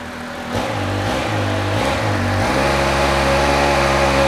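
Up close, a low-mileage 2022 Triumph Speed Triple 1200 RS on its stock exhaust gets three short throttle blips from idle. The engine then holds a steady, rising rev with a smooth, even growl.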